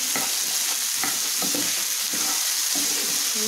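Vegetables and peas frying in ghee in a pan, a steady close sizzle with several scraping stirs of a spoon at irregular intervals, no talking.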